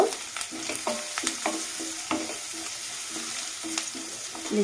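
Pointed gourd in a pan being stirred after chili powder and turmeric go in: steady frying sizzle with a rhythmic run of spatula scrapes and taps against the pan, close and clear, no speech.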